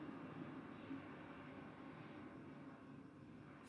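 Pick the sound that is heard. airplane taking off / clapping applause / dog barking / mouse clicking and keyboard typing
airplane taking off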